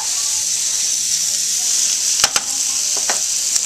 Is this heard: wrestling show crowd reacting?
no